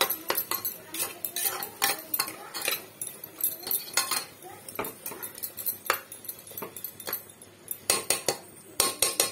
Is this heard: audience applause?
no